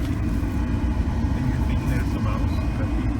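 A 2010 Ford Escape engine idling rough after long sitting, a steady low rumble throughout with voices talking over it.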